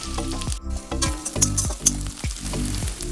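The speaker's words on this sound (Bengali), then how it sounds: "ভালো করে পেঁয়াজটাকে ভেজে নেব।" Chopped onions fry in mustard oil with dried chili and cumin for a chicken tarka, producing a strong, close sizzle broken by repeated scraping stirs of a spatula.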